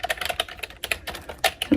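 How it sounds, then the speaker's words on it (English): Fingers tap out quick, uneven bursts of keystrokes on a Mophie wireless Bluetooth keyboard, crisp and close with brief pauses between clusters. "I think it's a Mophie wireless Bluetooth keyboard"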